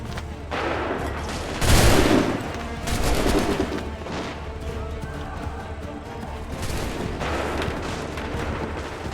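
Musket volleys in the Assassin's Creed III video game, a loud booming fusillade of massed gunfire that rolls out and then repeats in later waves, with battlefield rumble continuing underneath.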